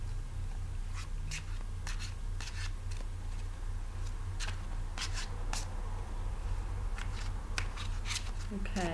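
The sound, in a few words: shuffling tarot cards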